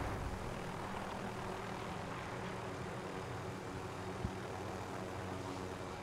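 An aircraft flies in the game Warzone, a steady droning engine hum with a low propeller-like rumble, sustained and even throughout with no voices.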